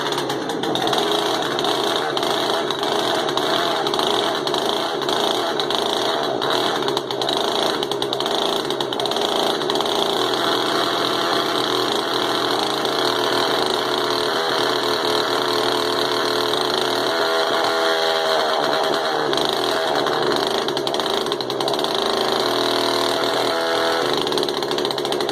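A barn-find Poulan Pro chainsaw engine runs continuously, its steady two-stroke drone loud and close throughout, with slight shifts in pitch and rough spots as it idles and revs.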